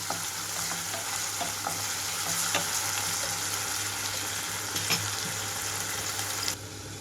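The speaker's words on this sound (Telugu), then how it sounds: "ఉల్లిపాయలు పచ్చిమిరపకాయలు వచ్చి పచ్చిమిరపకాయలు కొద్దిగా సాఫ్ట్ కలర్ అయిపోవాలి మీడియం ఫ్లేమ్లో ఉంచి వేయించుకుంటున్నాను" Onions and green chillies fry on a medium flame, giving an even, steady sizzle with occasional light clicks of stirring throughout, and no one speaks.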